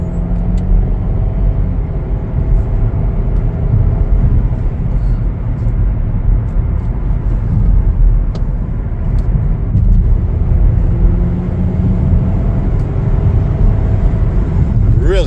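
Interior of a 2023 Chevrolet Blazer 2LT on the move, a loud steady low rumble of engine and road noise throughout, with a few faint clicks over it.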